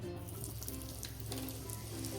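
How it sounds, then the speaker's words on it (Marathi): Asafoetida added to hot oil in a pan while making spicy kat vada gives off a steady, close sizzle that holds evenly for a couple of seconds, with no voices. "आपण वड्यांसाठी थोडं तेल टाकते हिंग टाकू थोडं"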